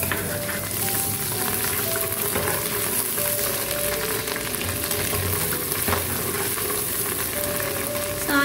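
Ginger garlic paste frying in oil with golden-brown onions, a steady, close sizzle that holds evenly throughout, with faint stirring underneath and no talk.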